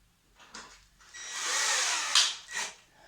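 A power drill with a wood bit bores through a piece of metal, giving a short whining burst of about a second that swells, peaks and stops, between brief scraping sounds.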